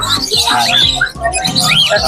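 Dense flock of parakeets at the Grotto pet and bird market chirping and squawking continuously, many overlapping bright calls close by with a faint voice underneath.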